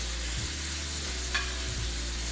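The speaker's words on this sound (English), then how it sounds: "we're just searing that joint on the sides, top and bottom and the sides." A roast joint sears in a hot pan, giving a steady close sizzle with faint scraping as it is turned.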